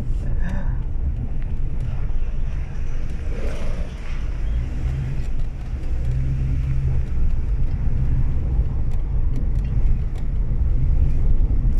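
A car engine drones steadily on the move, a low continuous rumble with road and wind noise throughout and faint voices now and then.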